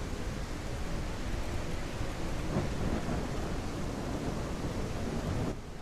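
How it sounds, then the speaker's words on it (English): A video game thunderstorm rolls in with steady heavy rain and low rumbling thunder, a dense, loud, continuous wash that eases slightly at the very end. "Particularly with the storm rolling in."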